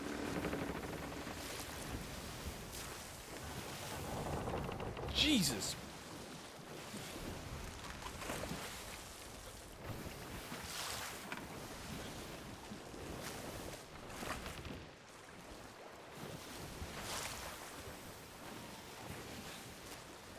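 A wooden ship hull in the Sea of Thieves game groans and creaks as it takes on water, under steady wind and sloshing waves, with one short startled exclamation from a player.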